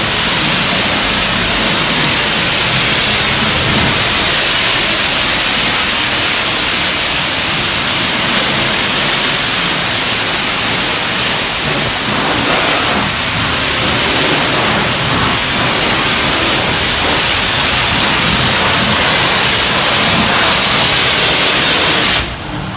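A car being sprayed down with water to blast off heavy gunk, a steady loud hiss of spray running without break for the whole stretch.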